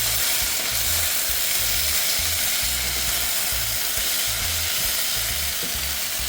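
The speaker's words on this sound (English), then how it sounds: "Saute everything together" Chicken feet sauté with kitchen magic seasoning in a loud, dense sizzle that hisses steadily throughout, with a low rumbling pulse from the pan and no talking.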